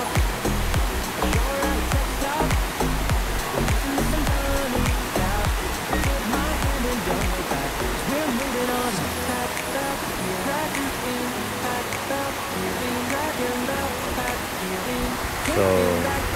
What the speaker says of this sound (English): Very nice view. Natural waterfall.